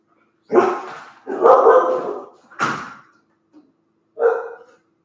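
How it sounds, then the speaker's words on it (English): A dog named Sasha barks outside after being put out of the house, three loud, close barks in a row and then one more after a short pause, with no one talking over them. "You didn't go out there just to bark and come back in."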